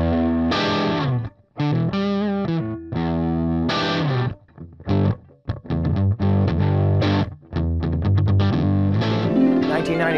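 A distorted electric guitar played through a 1996 Line 6 AX2 modeling amp set to its JTM 45 model rings out with chords and short riffs, loud and close, with brief pauses between phrases.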